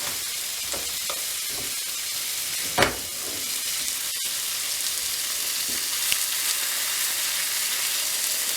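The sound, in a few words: pork chops sizzling while frying in a pan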